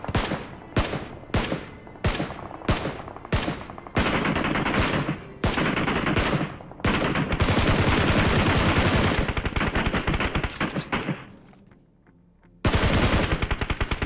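Rapid bursts of video game gunfire from an AKM aimed at vehicles, single shots at first and then sustained automatic fire, loud and close, with a short quiet gap before the shooting resumes.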